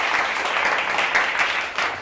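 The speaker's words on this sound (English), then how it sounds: "please give them a one last time in applause" Audience applause at the end of a talk, a dense and steady wash of many hands clapping that holds at even loudness for about two seconds.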